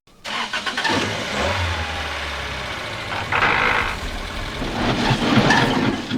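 A car engine in a film cranks and revs unevenly as it fails to start, rising and falling in uneven surges that carry on throughout.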